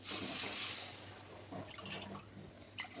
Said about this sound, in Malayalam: ഇനി ഇതിനകത്തോട്ട് ഞാൻ ചൂടുവെള്ളം ഒഴിച്ചു കൊടുക്കും കേട്ടോ